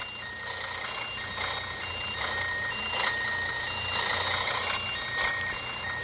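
A truck in a driving simulator game backs into a loading dock in Manaus, its reversing alarm beeping in a steady rhythm over a low engine hum, clear and continuous without any voices.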